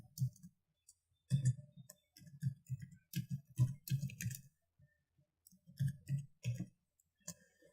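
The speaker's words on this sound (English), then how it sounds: "I just type something else, adding more information to that note" Clusters of soft, rapid clicks come from typing on a computer keyboard, heard close in short bursts separated by brief pauses.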